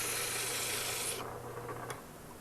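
Sandpaper rubs against the bottom of a wooden ring turning on a lathe, a steady close rasping hiss that drops away partway through, leaving quieter faint friction, with no voices.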